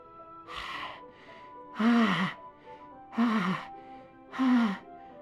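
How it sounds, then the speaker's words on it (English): Sharp, hissing inhales through teeth in the video game Doki Doki Literature Club, repeated three or four times, close and loud, with a raspy, strained quality, separated by short pauses. "It sounds like breathing. A sharp inhale, like someone sucking the air through their teeth."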